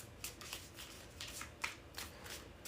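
Tarot cards being shuffled by hand, a run of quick riffling bursts repeating in a steady rhythm, close and fairly quiet with no talk.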